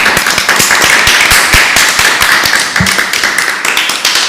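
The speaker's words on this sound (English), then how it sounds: "we're all clapping because Bengt has joined us here in the studio." People applauding together in a studio at the World Othello Championship finals broadcast, a loud, steady patter of many hands clapping close by, with a brief voice sound partway through.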